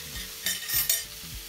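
Minced meat frying in a pan while a spatula stirs and scrapes it, several short scraping strokes over a soft sizzle, close and clear with no talking.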